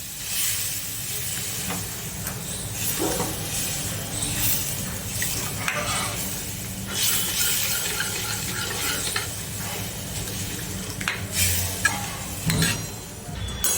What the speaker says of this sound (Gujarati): તરત જ આપણે છાશને ફટાફટ આ રીતે હલાવવા માંડવાનું છે